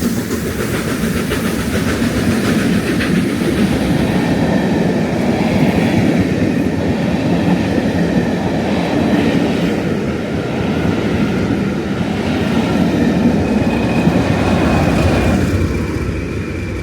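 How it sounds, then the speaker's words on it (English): A Great Western Railway Castle class steam locomotive powers through Acocks Green station with a Class 20 diesel on the rear, giving a loud, steady roar of train and rolling wheels close by for the whole stretch, with no talk. "That was just wonderful hearing that Great Western Railway Castle class powering through Acox Green."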